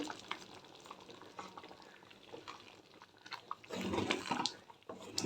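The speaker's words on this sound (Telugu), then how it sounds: "ఇప్పుడు దీన్ని బాగా కలిపేద్దాము" A spoon stirs thick vegetable millet khichdi in a new pot, giving a soft steady scraping and squelching, close by, swelling louder toward the end.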